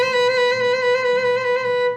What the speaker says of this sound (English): This is your middle of the road, medium speed trill.